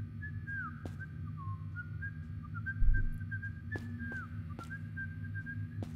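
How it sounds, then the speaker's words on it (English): Whistling in the horror video game Do You See Sparky?, a thin melodic whistle drifting up and down in short phrases over a low droning ambient hum, with a few sharp ticks and a dull thump partway through. "What's with the whistling?"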